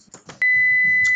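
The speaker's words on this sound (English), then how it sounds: "Okay, that's the buzzer." A loud, steady electronic oven timer beep starts abruptly and holds as one continuous tone, preceded by faint kitchen clatter while granola bakes.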